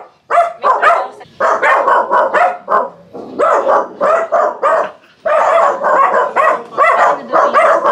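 A dog barks loudly and continuously in rapid bursts, close by, with excited yips mixed in and barely any pause.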